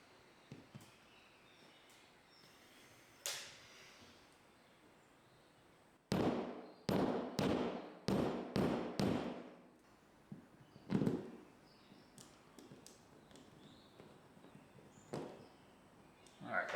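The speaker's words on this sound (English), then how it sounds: "now I'm going to have to hammer in an anchor" A rapid series of sharp hammer blows hammering a wall anchor into a garage wall, six or seven in a quick burst, followed by a few scattered knocks in a quiet room.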